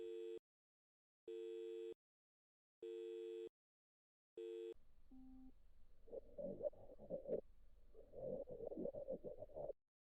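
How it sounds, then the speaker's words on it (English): Phone call tone in the visual novel game Doki Doki Literature Club: four evenly spaced electronic beeps, then a low rumbling hum with soft fluttering bursts that fades out, with no talking. "I call her phone."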